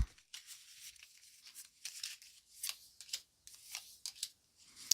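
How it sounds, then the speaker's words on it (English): Tarot cards handled and drawn from a deck, giving soft crisp shuffles, slides and snaps in short bursts separated by quiet pauses, close-up and gentle with no voices. "I can pull a couple tarot cards."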